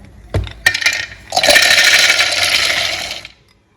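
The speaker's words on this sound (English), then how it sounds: "Put it in our food processor." A food processor blends peanuts for a peanut brittle snack, with a few clunks at the start, then a loud, steady whirring grind that runs about two seconds before stopping.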